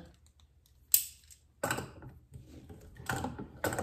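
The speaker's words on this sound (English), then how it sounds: "So here you can see this ratchet action of not having to come off all the way" A Knipex Cobra plier wrench ratchets on a half-inch pipe plug, giving a sharp metallic click followed by a few rougher, scraping bursts of tool and fitting contact, close and moderately loud with no talk.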